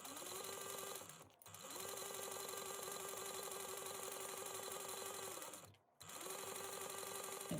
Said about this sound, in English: we're going to sew this down at a 3/8 inch seam allowance